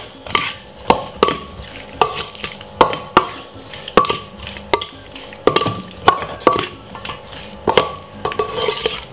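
King prawns being stirred with mixed herbs in a bowl, a spoon clinking and scraping against the bowl in a steady rhythm of sharp, close taps and scrapes.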